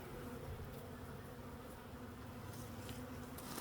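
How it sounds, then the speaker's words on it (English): Honey bees buzz in a dense, continuous drone inside a newly installed beehive set up from a package, heard close and alone with no talking. "These are some seriously busy bees."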